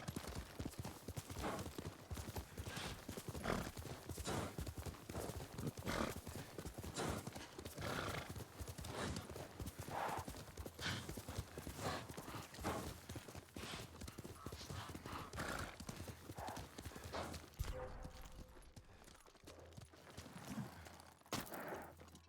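Kaze, a horse in Ghost of Tsushima, galloping with a steady rapid clip-clop of hooves and occasional whinnies, close and loud the whole time before fading near the end.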